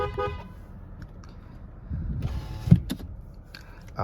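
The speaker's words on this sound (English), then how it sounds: "horn." A single short horn toot from a 2008 Lexus IS250, sounding close and loud over quiet cabin background, with no one speaking.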